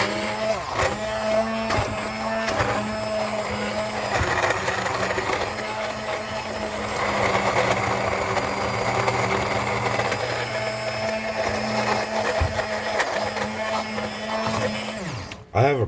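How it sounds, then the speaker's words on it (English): A cheap immersion stick blender whirs steadily and loudly close by for about fifteen seconds, its motor pitch wavering slightly, then cuts off abruptly at the end. "If you don't have a stick blender, there we are, a stick blender."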